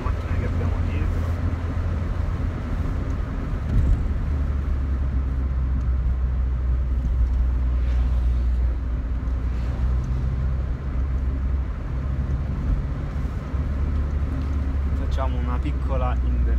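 A Fiat Punto GT turbo car drives along, its engine producing a steady low rumble heard from inside the cabin. A person talks over the drone throughout.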